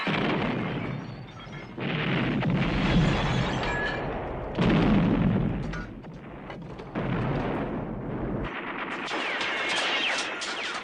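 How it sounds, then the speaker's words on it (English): Explosions and gunfire from the action film First Blood, with a napalm-like blast among them: a series of loud, rumbling booms and crackling bursts in distinct waves, separated by brief lulls. "It's about to be like a freaking napalm explosion."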